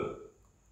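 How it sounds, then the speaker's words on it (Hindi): One short belch, fairly close and fading quickly, with no talking over it. "मतलब डकार लेना"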